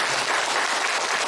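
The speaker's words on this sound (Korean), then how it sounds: "자, 우리 박수로 한번 환영할까요?" Steady applause from a church congregation welcoming a member during a Sunday worship service, a dense, even clatter of many hands that fills the room without letting up.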